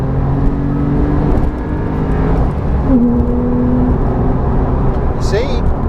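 A Porsche 911 Carrera T engine pulls hard through an overtake, a loud, steady drone rising in pitch with a quick gear change midway, heard from inside the car.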